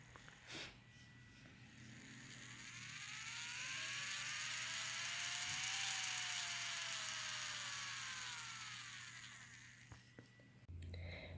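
A small DC motor driven through a transistor whirs faintly, its pitch sweeping up and then back down as it speeds up and slows, between quiet stretches with small clicks at either end.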